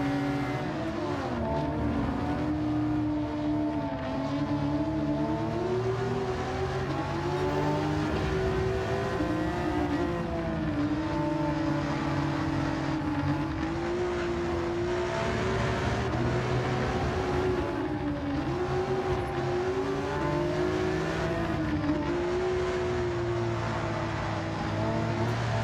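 A video game race car engine in Gran Turismo 7 drones continuously, pitch rising and dipping with repeated revs and gear shifts, loud and steady throughout with no talking.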